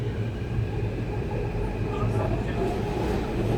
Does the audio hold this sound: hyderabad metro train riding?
yes